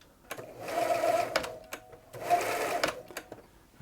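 A Bernina 930 Record electronic sewing machine stitches a zigzag in two close bursts of rapid whirring and clatter, with mechanical clicks between and after the runs.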